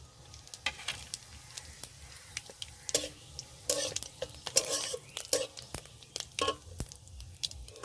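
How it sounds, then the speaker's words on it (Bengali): Crushed cardamom and whole cumin seeds dropped into hot oil in a pan, giving soft sizzling under a scatter of sharp clinks and scraping stirs from a utensil against the pan. "দুটো এলাচ নিয়েছি থেতো করে দিয়ে দেব এবার দিয়ে দেব গোটা জিরে"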